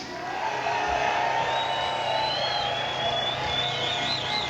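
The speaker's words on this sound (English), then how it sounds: "Let them a massive cheer for Peter Lynch." A hall audience cheers and whoops at a rally, a continuous crowd roar with a few high whistles rising through it, steady throughout and moderately distant.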